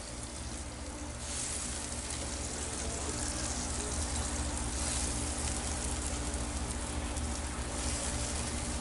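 Butter sizzles steadily and loudly in a Lodge cast iron loaf pan on a grill while a bread loaf's top is basted, a continuous hissing fry throughout with no talk.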